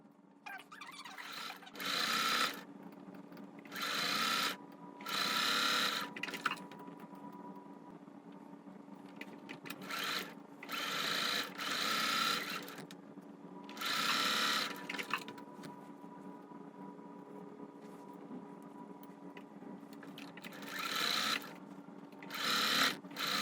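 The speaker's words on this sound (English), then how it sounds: "I'm going to sew the same way all the way down." Sewing machine chain-piecing quilt block pieces, running in short steady bursts of one to two seconds separated by brief pauses, close and fairly quiet, repeating regularly with no talk.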